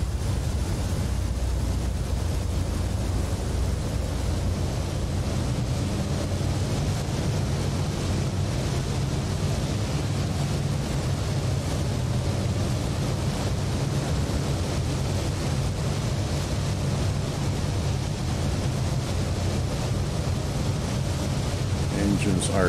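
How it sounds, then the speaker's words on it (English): Four piston engines of a Lockheed Constellation L1049 in Microsoft Flight Simulator 2020 running up to maximum thrust with brakes held, a loud, steady, rumbling roar that stays even throughout. "Start running the engines up to maximum thrust."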